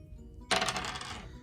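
Dice rolled during a Cooking Customers board game: a sudden bright clatter of two dice tumbling across a hard surface, loud and close, then rattling to a stop within about a second, no talking.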